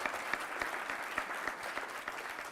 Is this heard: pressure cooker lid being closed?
no